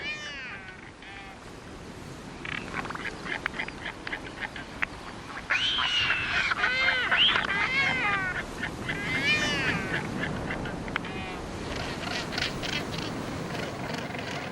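Albatross colony near Dunedin, New Zealand, calling with overlapping nasal, wailing and braying cries, some near and loud, others farther off, rising after a quieter opening over steady wind-like ambience; no talk.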